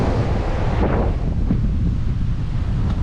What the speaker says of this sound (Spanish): el sonido de las olas del mar, ese latido del mar, es hermoso y sumamente relajante.